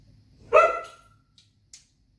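A single sharp dog bark rings out close by, followed by a fading tail and a couple of faint clicks in an otherwise quiet room.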